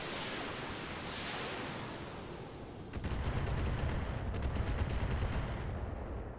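Mech weapons firing a full salvo in the video game Roguetech: a roaring wash of blast noise, then a heavier burst of rapid repeating shots with deep rumbling booms carrying on to the end.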